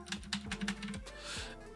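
Rapid keystrokes on a Z15 mechanical keyboard with changed switches, a quick uneven run of sharp clacks close by, ending in a slightly longer, softer burst.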